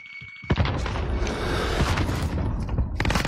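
A frag grenade goes off in Warzone with a sharp boom at about half a second, followed by a sustained roar of blast debris and gunfire-like clatter, then a second burst of loud impacts near the end.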